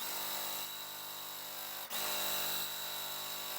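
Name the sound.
sewing machine stitching quilt pieces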